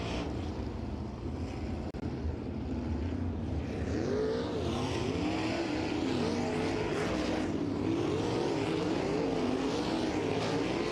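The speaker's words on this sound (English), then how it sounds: "As has Chris Windham, as we get set to resume green flag conditions in Wedge High Performance Karts practice session number 1." Racing karts in a practice session at Lincoln Park Speedway give a continuous, moderately loud engine drone whose pitch rises and falls as they circle the track, with no talk.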